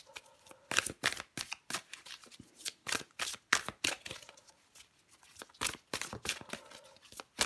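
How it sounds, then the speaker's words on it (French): Tarot cards shuffled by hand in a steady run of crisp riffling bursts, close and fairly loud with short pauses between handfuls, no voice over it. "Allez, encore une carte pour vous les Capricornes."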